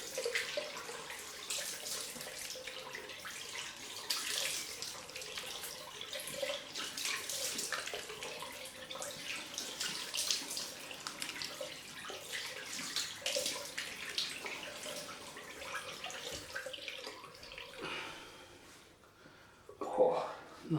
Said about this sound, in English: So on with the cold rinse.